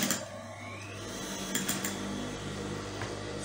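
A sewing machine runs steadily at close range with a continuous whirring hum, stitching the hem of a ruffled tent gown.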